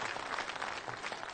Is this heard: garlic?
no